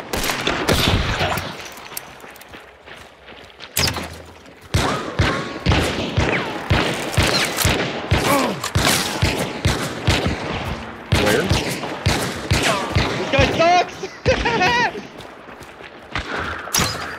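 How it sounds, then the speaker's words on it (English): Rapid gunfire from a video game shooter, with repeated sharp shots and bursts spread through the clip, loud and close, while a player talks over much of it. "Where is he firing from?"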